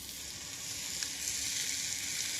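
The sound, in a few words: meat sizzling in hot casserole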